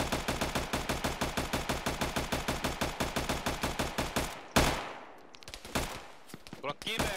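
Arma 3 gunfire: sustained rapid automatic fire in an even stream of shots, then a heavy blast and scattered bursts, loud and close with voices underneath.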